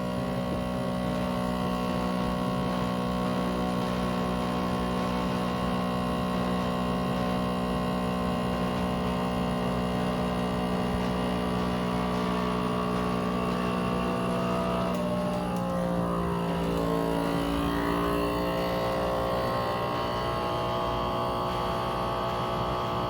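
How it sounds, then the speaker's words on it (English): A vacuum sealer packing a bag of smoked pulled pork runs as a loud, steady motor hum and drone close by, and its pitch shifts near the end as the bag draws tight. "Pull down, vacuum seal."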